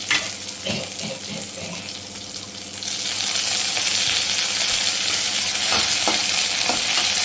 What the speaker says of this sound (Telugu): నెక్స్ట్ తాలింపు కోసం పెనుము పెట్టి అందులో ఆయిల్, ఆవాలు, ఆనియన్స్, కరివేపాకు వేయాలి.